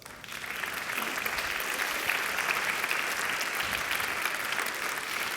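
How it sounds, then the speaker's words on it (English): A conference audience at an FMX 2016 virtual reality panel applauds the panelists, with dense, even clapping that starts quickly and stays strong and sustained across the room. "let's give our panelists a big round of applause"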